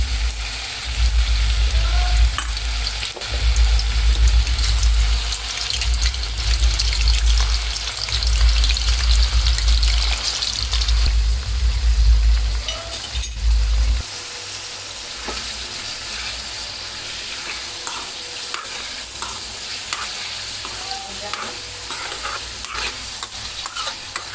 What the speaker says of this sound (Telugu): చూడండి ఫ్రెండ్స్, ఇలా చికెన్ ఫ్రై కావాలి.